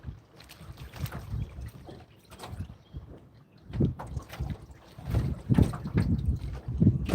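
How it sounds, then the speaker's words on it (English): Wind gusts buffet a fishing boat on open water, rumbling and rising in uneven surges against the microphone, with low thumps and water movement close by. "That wind is throwing me around pretty good."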